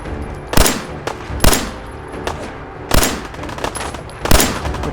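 Gunshots in the video game Fallout 4: four loud, sharp reports at irregular intervals over a steady low background rumble, with no talking.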